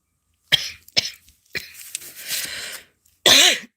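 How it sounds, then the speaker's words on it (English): A few sharp coughs, close and abrupt, followed by a longer raspy throat-clearing and one final loud cough, with silence between them. "it's causing me to cough"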